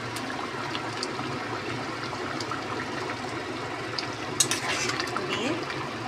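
Ghee is poured into hot cooked moong dal with papaya and sizzles as a steady, close, hissing crackle, with a brief clatter near the end.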